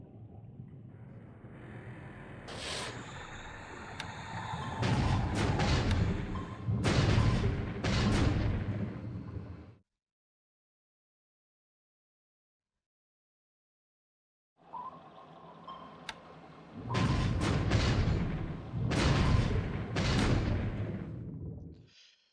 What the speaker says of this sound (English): Yeah, two torpedoes, both hit.